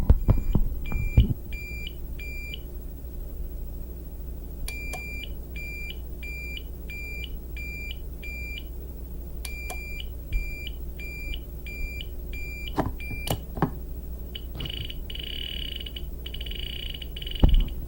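Quiet electronic beeping from a detector in Geiger counter mode, repeated bursts of short tones over a low hum, with scattered clicks and a denser buzzy burst near the end.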